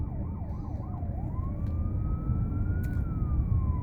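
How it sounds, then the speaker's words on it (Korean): An ambulance siren wails on a Busan street, first a fast yelp and then a long rising and falling wail, over the steady rumble of traffic and engine noise close by. "앰뷸런스가 지나가도 저리 길을 다 터줍니다"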